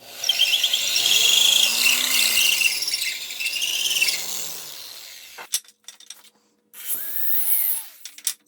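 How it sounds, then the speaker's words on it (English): A close power drill whirs as it pre-drills holes in wood for a railing, its pitch rising and dipping with pressure for several seconds, followed by clicks, short bursts and another brief run. "now I'm going to finish pre-drilling these holes"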